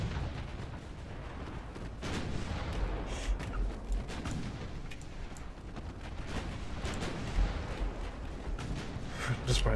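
Naval gunfire in Ultimate Admiral Dreadnoughts, secondary batteries on a heavy battleship trading shots with armored cruisers: a dense, continuous rumble of booming artillery with repeated sharp reports across the whole stretch.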